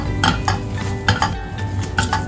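A spoon stirs spices into shahi paneer in a pan, scraping and clanking against the metal in a steady repeated rhythm, close up, with a faint sizzle underneath.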